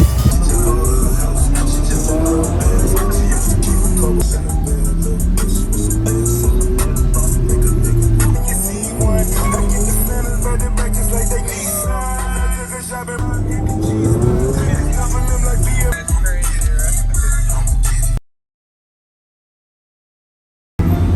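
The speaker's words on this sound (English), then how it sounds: "This is a 488 GTB turbo we're gonna go for a ride in right now." A Ferrari 488 GTB turbo sports car engine roars steadily at close range as it drives, with someone talking over the noise, ending in abrupt silence.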